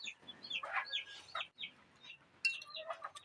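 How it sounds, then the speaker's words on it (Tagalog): Chickens cluck and chirp nearby, with a few squawks and higher calls overlapping in a busy, continuous chatter. "ayun na naman yung mga manok."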